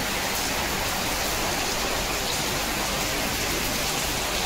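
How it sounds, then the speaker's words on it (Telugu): Rain falls steadily in a constant, dense hiss of drops striking surfaces nearby, uniform throughout with no voices. "వర్షం ఒకసారి ఏ రకంగా పడుతుంది చూడండి."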